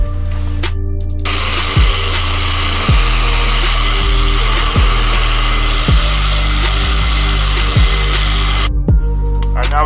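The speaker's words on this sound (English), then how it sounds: "We're going to grab a DA buffer, an orbital buffer." An orbital DA buffer with 600 grit sands a metal surface in a steady, loud whir, with repeated dips and surges as the tool is pressed and lifted, and a short quieter break near the start and end.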